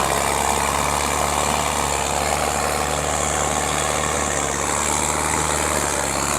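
A Sonalika tractor without a turbo, pulling a loaded trolley in a farm tractor pulling contest, produces a steady, loud, low diesel drone with no break or change in pitch.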